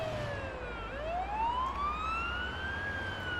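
An ambulance siren wails in the Ambulance Life paramedic simulator video game, a steady sweeping tone that dips and then climbs over a constant low engine rumble, loud and continuous without talk.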